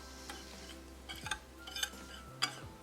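Spices are mixed into all-purpose flour for a catfish coating, giving soft, faint stirring and scraping sounds with a few light clinks against a bowl, close by and quiet, with no voices.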